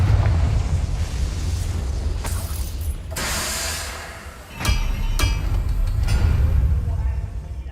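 A Confringo fire spell in the video game Hogwarts Legacy bursts with loud, sharp blasts over a steady rumbling backdrop, the strongest explosions landing partway through, followed by crackling impacts.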